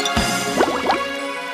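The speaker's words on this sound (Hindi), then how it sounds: "और जानबूझकर कुल्हाड़ी को नदी में गिरा दिया।" A woodcutter's axe drops into a river with a short liquid plop and gurgle, followed by a brief bubbling splash over a steady background drone, loud and close.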